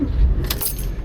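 Keys jangling as a Porsche 911 is unlocked, a brief close metallic rattle over a low rumbling background.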